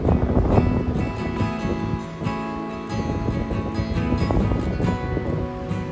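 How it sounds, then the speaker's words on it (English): Steady rushing wind buffets the microphone at Paro, Bhutan, with a broad roar that swells and dips throughout and no voices. "It was quite windy."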